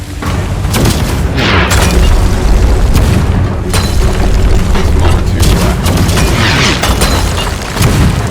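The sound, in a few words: cannons firing in the video game Sea of Thieves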